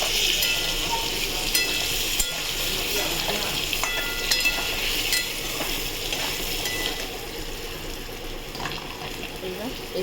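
Ground cumin and turmeric sizzle in hot oil in a pan, frying steadily with bright crackling while a utensil scrapes and stirs in uneven bursts, loud and close.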